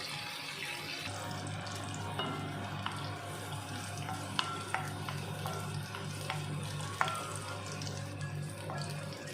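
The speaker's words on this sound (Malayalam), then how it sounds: "കടയിൽ നിന്ന് വാങ്ങുന്ന മുന്തിരിങ്ങ ഞാൻ കഴുകിയിട്ടാണ് കേട്ടോ ഇത് വറുക്കാനെടുക്കുന്നത്." Washed store-bought raisins fry in oil for a vegetable biryani, producing a moderate sizzle over a low steady hum, with scattered sharp pops and spits.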